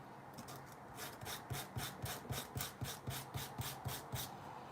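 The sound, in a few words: hand file smoothing the end of a wooden piece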